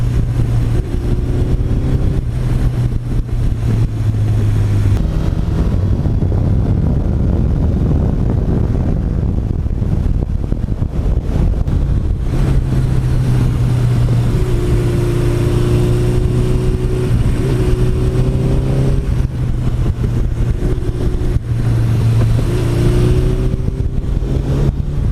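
A 1982 Suzuki GS1100E motorcycle engine runs steadily and loudly for the whole stretch, a dense low rumble with shifting tonal drones and rising revs, with no talk over it.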